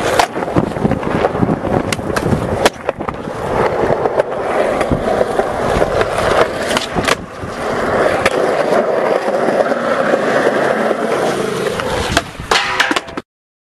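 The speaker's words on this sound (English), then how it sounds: "Kick scooter." A kick scooter's hard wheels roll continuously over rough pavement, with a steady gritty rumble broken by sharp clacks and thumps from cracks and bumps.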